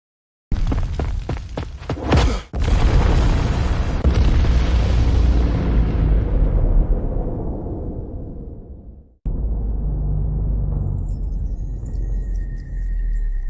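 A huge explosion erupts with a deep booming roar, preceded by a few sharp cracks, then rumbles and fades over several seconds before a second heavy blast rolls in and sustains, loud and close, with no voices.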